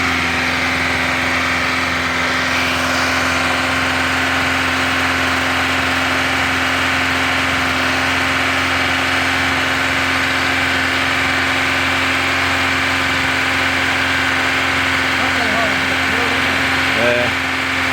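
A four-cylinder car engine idles steadily on fuel vapour while nearly out of petrol, giving a constant low hum that runs unbroken throughout, with faint talk in the background.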